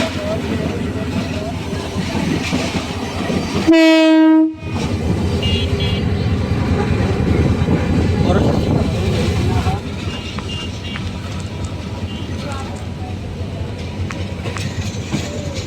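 A locomotive engine rumbles continuously up close while being moved between tracks, interrupted by one loud, sustained horn blast, then the clattering rumble carries on.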